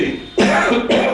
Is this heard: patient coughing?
yes